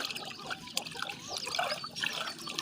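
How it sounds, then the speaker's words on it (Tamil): Water sloshes and swishes close by in uneven bursts as a hand churns a chicken lice-treatment solution around inside a container. "இதை கையை போட்டு இப்படி கலக்கிட்டு"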